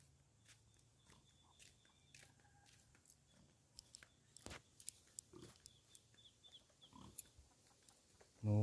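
Pigs grunting and snuffling at a distance, with scattered clicks and shuffling, fairly quiet overall until a loud bump at the very end.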